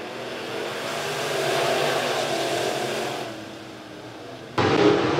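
USRA B-Modified race cars at Lebanon Midway Speedway roar off together at the green flag during a heat race, a loud blended engine surge that swells, eases, then spikes again near the end, with no talk.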